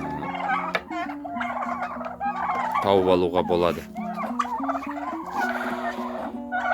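Domestic turkeys gobble and cluck close by in a busy overlapping flock, bursts of warbling calls rising and falling throughout, while a person talks over them.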